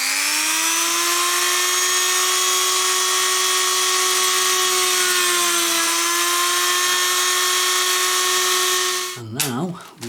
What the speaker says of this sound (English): Next, we drill out the holes.